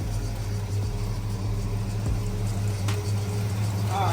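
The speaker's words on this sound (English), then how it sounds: "I got an exhaust manifold leak, which I'm gonna have you sort that out for me too. It's on this side here, you can hear it." A Cutlass 442 idles in a shop with an exhaust manifold leak, a steady low rumbling engine note running continuously throughout, close by and fairly loud, with a slightly rough, uneven idle.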